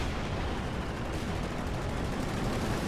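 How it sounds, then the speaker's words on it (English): Strafing run gunfire in the Company of Heroes 2 strategy game, a dense, continuous roar of rapid aircraft gunfire and impacts filling the whole stretch at steady loudness. "Does throw out a strafing run"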